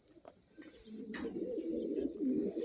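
Domestic pigeons, including four recently acquired young birds, coo softly and repeatedly in their loft. The low cooing stays faint over a steady background hiss, with no voices.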